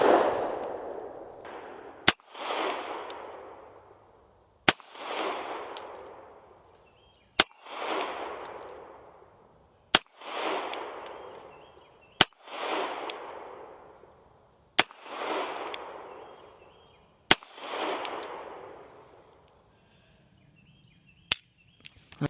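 KelTec gun shots fired at 20 yards outdoors: about eight sharp single cracks spaced a few seconds apart, each trailing off into a long rolling echo, with no talking.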